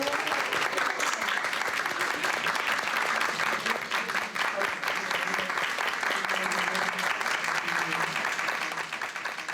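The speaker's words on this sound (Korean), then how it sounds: "조선대 학생들의 박수는 길었다." Students at Korea University in Japan give long, steady applause, a thick continuous wash of clapping that stays strong for the whole stretch and eases only slightly at the close.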